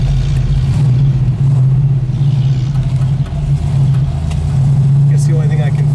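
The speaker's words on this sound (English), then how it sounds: "It's got a great idle to it too." A 1972 Plymouth Cuda idles steadily, a deep, even engine rumble holding close and loud throughout with little variation, and a voice speaking faintly underneath.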